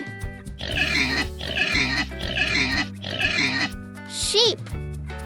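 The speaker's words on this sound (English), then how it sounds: "pig" Pig oinking in a children's nursery-rhyme song, four rhythmic grunting bursts over steady background music, ending in a brief higher squeal.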